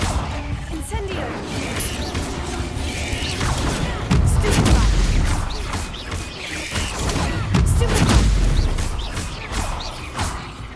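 In Hogwarts Legacy, casting the Incendio fire spell brings dense bursts of crackling, booming impacts and crashes, layered over continuous game action and loud throughout, with a voice speaking over parts of it.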